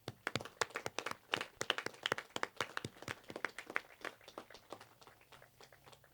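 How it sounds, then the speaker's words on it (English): An audience at a county veterans celebration applauds with clear, irregular hand claps that stay steady and fairly close for several seconds, with no voices over them. "let's offer a big round of applause and a heartfelt thank you to any Gold or Blue Star moms and families in the audience"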